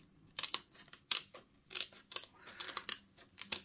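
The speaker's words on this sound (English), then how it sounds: "I can just use regular scissors" Faint, quick snips of regular scissors trimming a handmade mask close up, a series of short crisp clicks in an irregular rhythm.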